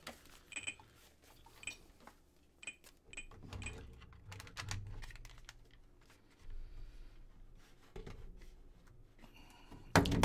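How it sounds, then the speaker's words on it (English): A computer keyboard being trodden on gives scattered clicks and clattering key presses in irregular bursts, fairly faint against a quiet room, with a few electronic beeps and a louder clack at the end. "Please don't tread on the keyboard!"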